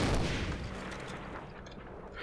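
Gunfire in Medal of Honor: Allied Assault multiplayer, a loud opening burst that decays into a crackling, echoing rumble with scattered smaller reports, no voices.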